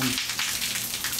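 Heavy rain pours onto a townhouse balcony in a dry desert city, a dense, steady hiss of drops on hard surfaces that stays loud and close without a break.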